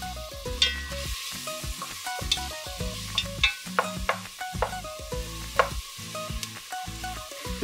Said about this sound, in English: then we're gonna saute some onion